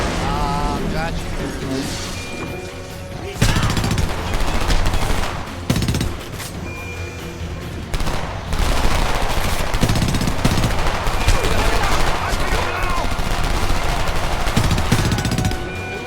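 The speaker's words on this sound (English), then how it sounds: "Who's shooting in the fence?" Sustained gunfire and machine-gun bursts in the shooter game Homefront, set in a labor camp, crackling almost without pause with heavy impacts and booms mixed in, under a busy game soundscape with voices.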